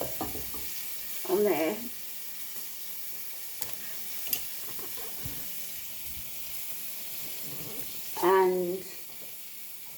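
Onions and spices sizzle softly in a tagine set on a diffuser while chicken tagine is being cooked, giving a low continuous hiss broken by brief bursts of a nearby speaking voice.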